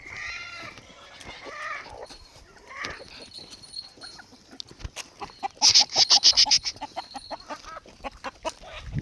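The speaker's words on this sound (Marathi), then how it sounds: "आता बघा कोंबड्या कशा मागं मागं येतात टोपलं दिसलं की" Free-range country chickens cluck and squawk close by as they follow a basket of bajra feed, with a burst of busier clucking midway and rustling around them.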